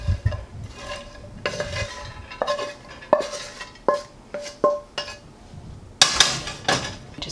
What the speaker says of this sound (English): I'm going to take our sausage and our bacon and put it in the bottom of our casserole dish